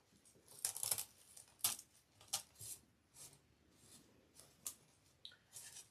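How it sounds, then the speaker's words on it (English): Scissors snip through craft material for a Valentine door hanger, a series of quiet crisp cuts at irregular intervals, close up with no talk. "So I think we need to cut that off"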